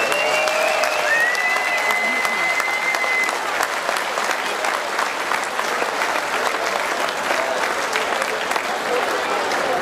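Sustained crowd applause at a marksmen's festival king proclamation in Esens, dense and steady throughout, with voices audible underneath.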